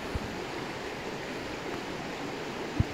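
The Estena river flows along the Boquerón del Estena trail in Cabañeros National Park, Castilla-La Mancha, as a steady broadband rush of water with two brief low thumps, and no voices.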